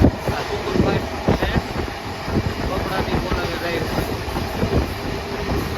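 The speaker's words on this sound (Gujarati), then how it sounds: "કેવી ફાસ્ટ ચાલે છે ટ્રેન" A fast train runs between Surat and Vadodara, heard from inside a carriage as a loud, close rumble with repeated rhythmic clickety-clack wheel beats and wind noise, while voices murmur underneath.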